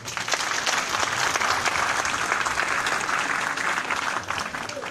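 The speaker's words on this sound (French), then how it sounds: "Abraham Sangaré, il faut l'applaudir." Steady audience applause for Abraham Sangaré fills five seconds at a public address in Côte d'Ivoire, dense and fairly close, holding even throughout with faint voices underneath.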